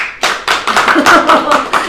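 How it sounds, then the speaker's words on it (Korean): A church congregation at a Korean Sunday worship service claps in unison, a loud, close series of about eight evenly spaced claps in a quick rhythm, with voices mixed in. "박수 한번 칩니다"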